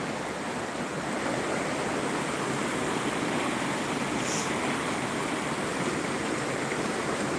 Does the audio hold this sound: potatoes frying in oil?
no